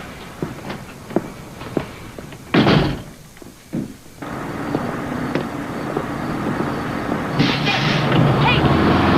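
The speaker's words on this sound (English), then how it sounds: "Yeah, shut the door." A door shuts with a heavy thud partway through, after a few sharp knocks or footsteps, then a steady rumbling background fills the rest.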